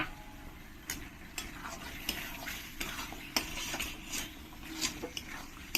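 Potatoes and whole onions sautéing in oil in a pan, with a soft steady sizzle broken by repeated scraping clicks of a spoon stirring against the metal, close and fairly quiet.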